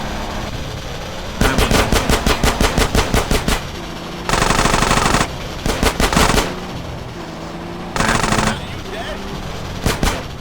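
Rapid automatic gunfire from a video game, GTA San Andreas Definitive Edition, loud bursts of machine-gun fire in several clusters with short pauses between them, close and sharp.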